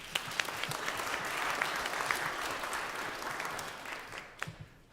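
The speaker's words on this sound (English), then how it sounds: "a round of applause," Sustained applause from a band concert audience, a dense steady clatter of many hands that holds for several seconds before thinning out into a few scattered claps at the end.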